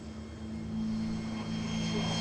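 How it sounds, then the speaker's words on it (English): A propeller airliner's engines drone steadily with a low humming tone as it arrives on the tarmac at Gondar airport in Ethiopia, a continuous close engine noise that swells slightly toward the end. "On the tarmac, we can see a plane arrive"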